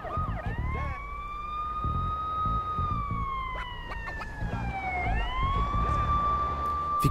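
An ambulance siren in the Watch Dogs video game, a loud wailing tone that rises and falls as it passes close by over a throbbing low rumble of traffic.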